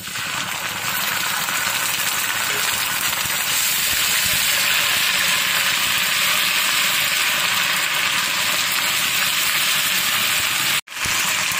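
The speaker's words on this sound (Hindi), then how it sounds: "इसे हम 1 मिनट के लिए फ्राई कर लेंगे ताकि लहसुन की अपनी जो स्मेल होती है वो खत्म हो जाए।" Garlic ginger paste fries with light golden onions in a hot pan for an aloo matar curry, giving a steady, loud, broadband sizzle that runs continuously and cuts off sharply near the end.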